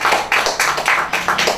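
Audience applause at a graduation awards ceremony, heard as a few short bursts of clapping with a steady rhythm, close and fairly loud.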